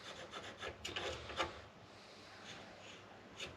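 Wood is sawn by hand between two marked lines while building furniture for an expedition 4x4 truck, producing quiet, close rasping strokes in a quick irregular rhythm that fade into softer scraping.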